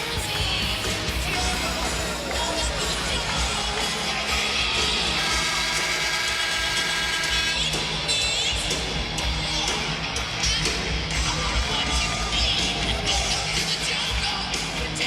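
A roaring crowd in a 22,000-seat basketball arena in downtown Louisville, Kentucky, keeps up a dense, continuous wash of cheering and yelling during a college game between Louisville and North Carolina.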